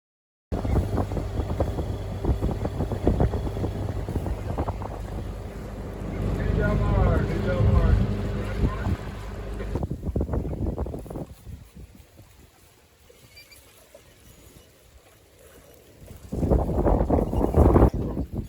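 A sailboat motor sailing out of Marina del Rey, its engine a steady low drone with wind rushing over the microphone, fading quieter midway before rising loud again near the end, with brief talk over it.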